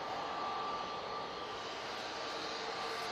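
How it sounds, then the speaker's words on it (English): A Jet2 Airbus A321neo lands on runway 23 left at Manchester Airport, its engine roar a steady, broad, moderately distant rumble that holds without break. "you can hear that 321 Neo coming onto 2-3 left"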